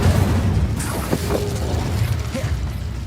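An Incendio fire spell is cast in Hogwarts Legacy, a burst of flame with mechanical clatter and small pops amid a busy, rumbling fight, with no voices.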